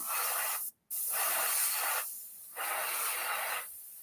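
Airbrush spraying model paint, a slightly raspy hiss in three bursts, steady while the trigger is held, with a brief silent gap near the start and a quieter lull in the middle.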